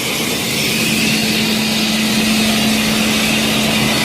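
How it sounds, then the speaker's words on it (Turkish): A homemade electricity-generating generator runs with a steady, loud mechanical drone and a constant low hum, unbroken for the whole stretch with no voices. "Makedonyalı Hüseyin abinin yapmış olduğu elektrik üreten jeneratör sistemin görüntüsü bu."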